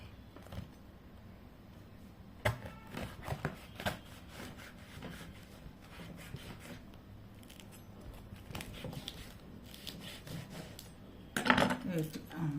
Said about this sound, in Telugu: దీన్ని ఒకసారి కట్ చేసి చూస్తాను ఇది ఎట్లా ఉంటుంది అనేది.